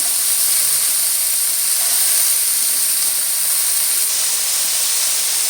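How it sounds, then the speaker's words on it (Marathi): Green beans and potato steam and hiss in a hot pan, a steady, even hiss that holds at the same level throughout with no voices. "भाजी टाकली आहे मी त्याच्यामध्ये"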